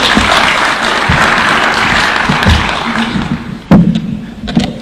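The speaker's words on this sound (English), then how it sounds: "Please, let's clap for the Governor." Dense crowd applause for the Governor of Turkana at a Kenyan public event with the President present, sustained and steady, then a few louder claps and thuds near the end.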